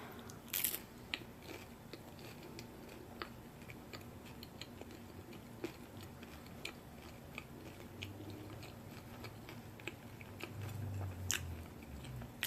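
Someone chews avocado egg rolls that have gone soft rather than crunchy, with faint moist bites and clicks spread over the stretch, close and quiet, without talk.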